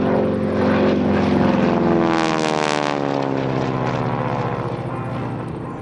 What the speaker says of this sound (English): Three Harvards of Peter, Guy and Stephen pulling up for the ripple roll